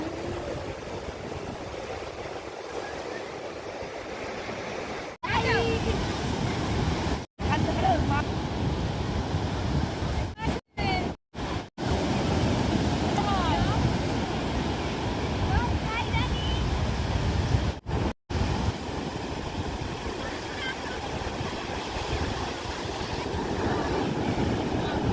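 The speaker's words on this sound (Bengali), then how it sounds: "এবার যখন ঢেউটা আসে তখন ঢেউর আওয়াজটা সুন্দর লাগে" Sea waves at Digha break on a rocky shore in a continuous close roar, swelling and easing, with wind buffeting the microphone in several sharp dropouts.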